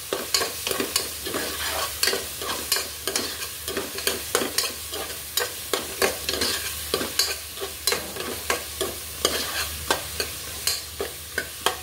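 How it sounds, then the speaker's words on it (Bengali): Onions fry and sizzle in a pan with steady stirring, a continuous crackle broken by regular, sharp scrapes of a spoon against the pan; close and moderately loud, with no voices. "এবার আমি পেঁয়াজ অ্যাড করছি।"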